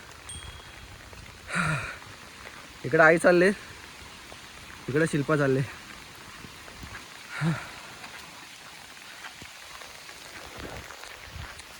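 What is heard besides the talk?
heavy rain falling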